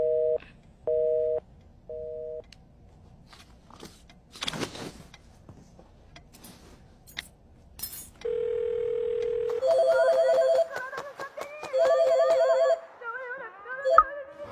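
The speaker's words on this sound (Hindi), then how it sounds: "फोन अभी कट हो गया, आई थिंक नेटवर्क चला गया था शायद" A phone line's disconnected tone after a call is cut, repeating steady beeps in short regular bursts at close range, with some faint rustling and a brief tone sequence between them and no talk.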